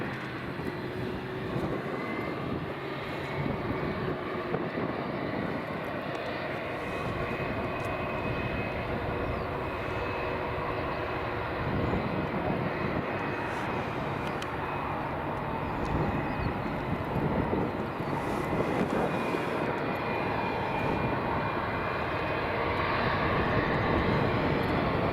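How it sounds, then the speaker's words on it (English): A British Airways A320 comes in to land at Edinburgh Airport with a sustained, broad jet roar that holds steady and loud for the whole stretch, at some distance, with no talk over it. "Oh, that was a nice landing."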